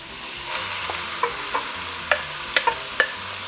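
Meat sizzling in hot olive oil in a pan for a Sicilian ragù, a steady frying hiss with a few separate sharp spatula clicks and scrapes, close and without talk.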